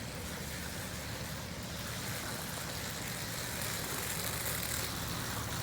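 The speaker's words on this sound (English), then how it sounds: "I hear water flowing through the pipes" Water from a pump runs through hydroponic NFT pipes as a steady, broadband rushing that continues evenly throughout with no talk.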